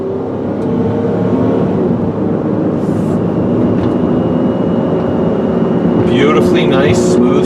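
A 2003 Ford Escape XLT 4X4 accelerates steadily past 50 mph, its engine droning continuously under road and wind noise and running smoothly through gear shifts, with a few faint higher-pitched tones near the end.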